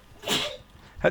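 A single close sneeze, short and sharp, with a brief breath sound just after it, heard during an online gaming session.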